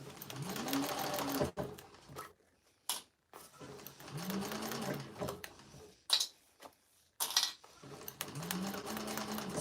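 A sewing machine stitches the binding seam of a handmade bowler bag in bursts, its motor whirring in several runs separated by short pauses and small clicks, fairly close and steady.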